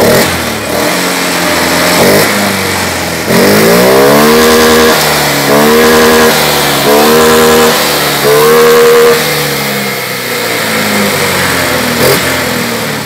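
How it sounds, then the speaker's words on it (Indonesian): A Honda Beat FI ESP scooter engine, being checked for a sputtering, bogging fault, revs up in several repeated throttle blips that rise and fall in pitch, loud and close, with no one talking. "Coba kita gas untuk responsif mesinnya gimana."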